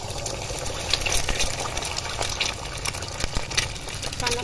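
An egg poaches in a kadai with a continuous bubbling sizzle, dotted with small crackles and pops at a fairly even, moderate level.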